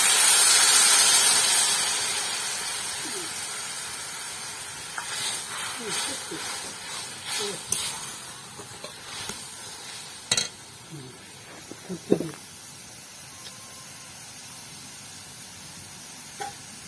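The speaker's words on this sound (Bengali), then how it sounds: "এবার জলে গুলে রাখা চিনির রসটা ঢেলে দেব।" Sugar syrup dissolved in water pours into papaya chutney in a hot pan, village-style Bengali cooking, with a loud hiss that gradually fades. Intermittent stirring scrapes and clinks follow.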